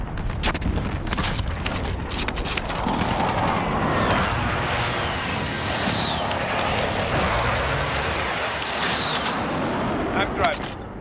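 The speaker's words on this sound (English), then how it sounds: "Be advised, friendly precision airstrike inbound." A precision airstrike in a military shooter video game sets off deep, sustained booms and rumbling explosions alongside roaring aircraft noise, dense and continuous at close range.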